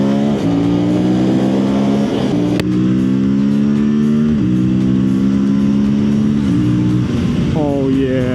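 An Aprilia RS457 sport bike revs and accelerates hard on a test ride, engine pitch climbing through several gear changes with brief dips between, loud and close throughout.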